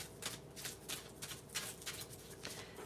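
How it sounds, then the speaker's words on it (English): Tarot cards being shuffled by hand in a steady, soft rhythm of repeated riffling bursts, quiet and close, with no talking. "As I'm shuffling"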